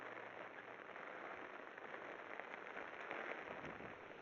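Rain falls steadily on a rooftop terrace, a dense, even hiss of drops holding constant throughout, moderately close and soft, with no voices.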